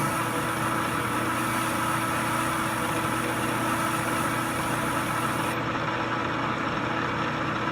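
A lathe takes a side cut across a motor pulley, with tapping paste on the work. A steady, even machine hum and cutting noise runs unbroken throughout, with no talking.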